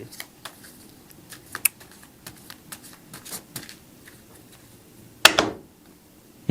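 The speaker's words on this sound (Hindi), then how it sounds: "please shuffle the pack" A deck of playing cards is shuffled by hand, giving soft scattered riffles and taps at close range, quiet overall, ending in a brief brighter rustling burst.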